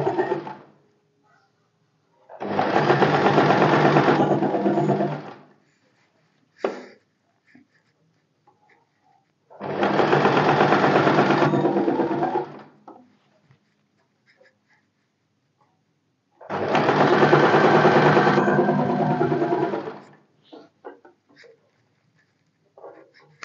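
Sewing machine stitching neckline binding on a blouse: three separate bursts of a few seconds each, a steady fast rattling whir close up, with short quiet pauses and small clicks between runs.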